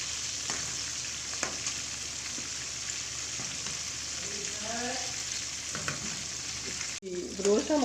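Chicken pieces deep-frying in hot oil for crispy KFC-style fried chicken give a steady, dense sizzle throughout, with brief bubbling bursts and a sharper disturbance near the end as the pieces are moved.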